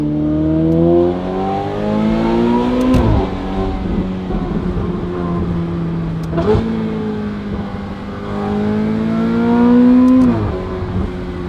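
A Ferrari F8 Tributo with a titanium exhaust and free-flow front revs repeatedly, each sweep climbing to a loud, musical wail before dropping back to a rumbling overrun, heard near and clear without talk.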